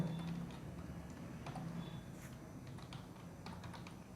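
Keys tapped on a computer keyboard while text is entered in Adobe InDesign, scattered light clicks in small irregular bursts, fairly close and quiet over a low steady background hum, with no talking.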